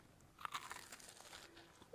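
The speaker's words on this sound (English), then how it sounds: "Can you hear that crunch?" A crunchy cherry Pop-Tart crust is bitten into close to the mic, giving a crisp crackling crunch that lasts about two seconds, quiet overall and with no talking.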